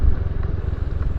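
A Honda Scoopy scooter engine labors while climbing an uphill road, a loud, close, pulsing motor hum with faint clatter throughout.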